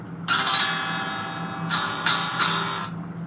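A metal guitar drifted out of tune strums several loud chords in a row, each ringing and decaying, with sour, clashing harmonics.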